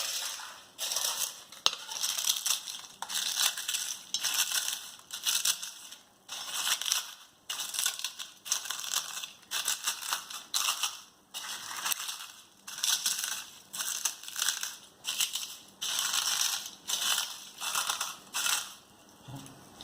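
Papad being crushed by hand for a quick pappadam curry, giving a steady series of close, dry crunching and crackling bursts that repeat rhythmically, with no talking.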